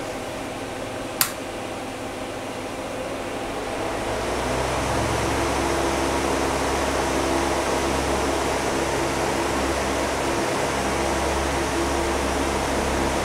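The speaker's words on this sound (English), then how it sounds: "I've already turned this fan on to turbo and I'm just gonna turn it on at the wall" A big electric fan runs on its turbo setting beside a twin 280X Ethereum mining rig, a steady broadband whoosh that steps up in loudness after a short click and then holds constant with a low hum.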